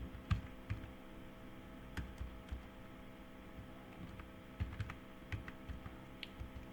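Quiet computer keyboard typing, a handful of sparse, close key taps with irregular gaps over a low steady electrical hum.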